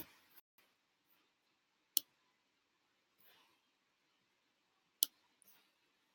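Computer mouse clicks while selecting a YouTube account, a few sparse, sharp, faint clicks spaced seconds apart in a quiet room.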